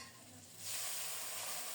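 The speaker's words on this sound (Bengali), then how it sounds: "এখন ভাজা পটল আর আলু দিয়ে দিলাম," Fried pointed gourd and potato hit a curry pan, a quiet hiss that swells into a steady loud sizzle after a brief lull, with no talking.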